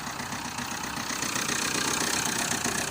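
A Vauxhall Vectra engine, started for the first time in years, idles steadily with an even, slightly knocking mechanical rumble, close and fairly loud throughout.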